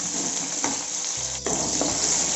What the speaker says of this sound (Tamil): சின்ன வெங்காயம் போட்டு கொஞ்சம் வதக்கிங்க